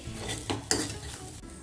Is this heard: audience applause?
no